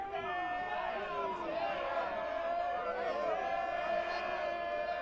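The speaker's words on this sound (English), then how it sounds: "Briar Cliff crowd making some noise" A home crowd at a Briar Cliff University baseball game against Mount Marty near Sioux City makes a continuous swell of many overlapping voices. The shouting and cheering hold at a steady, moderate level for five seconds.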